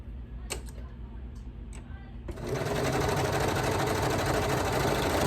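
A Brother Lock 1034D serger chain-piecing fabric starts up after a few soft clicks and runs in a fast, steady, loud mechanical whir to the end.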